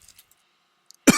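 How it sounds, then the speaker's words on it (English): A single weak, wet cough bursts out near the end after near silence, a person feebly coughing up blood after a wound to the back and chest. "You weakly cough up blood."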